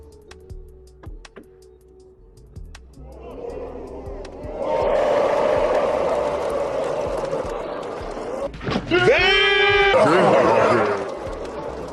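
A crowd in a Vietnamese billiards hall erupts in loud cheering and shouting after a shot by Filipino legend Efren Reyes, the roar swelling and holding for several seconds with a piercing yell near the end.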